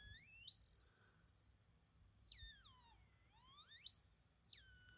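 A DIY function signal generator kit emits a thin, steady high electronic tone that holds for a couple of seconds, then glides down and back up in pitch before settling again, faint and without voices.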